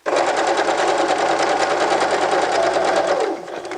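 A sewing machine set to a 2.5 straight stitch runs loud and close in a fast, even mechanical chatter for a few seconds, then slows and stops.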